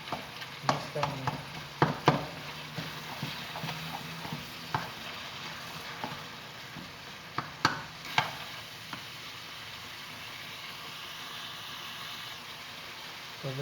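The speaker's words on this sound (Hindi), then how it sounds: "अभी टमाटर को आराम से मिक्स करेंगे" Peeled tomatoes are stirred in a pan for chicken makhani, with irregular clinks and scrapes of the spoon over a faint, steady sizzle, busier at first and then settling into a quieter simmer.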